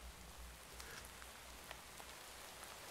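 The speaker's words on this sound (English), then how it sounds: "It's a bit annoying at the moment because it's raining" Faint rain falls in the Minecraft world of the FTB OceanBlock modpack, a soft, steady patter with occasional light drop ticks and no talking.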